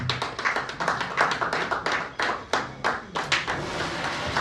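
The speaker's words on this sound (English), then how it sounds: "Ladies and gentlemen, a round of applause, please." Audience applause at a Nigerian investment signing ceremony: scattered, uneven hand claps from a modest crowd, close and distinct, fading slightly toward the end.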